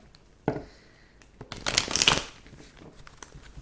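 Oracle cards are laid down and shuffled during a tarot reading, with a single slap followed by a dense burst of papery riffling and rustling, close up and without speech.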